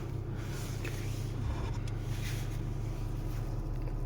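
A Renault Megane 2 engine idles just after a cold start on a frosty day at about minus 12, a steady low rumble with constant airy wind noise, close and even throughout.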